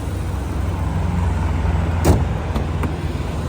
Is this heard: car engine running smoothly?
yes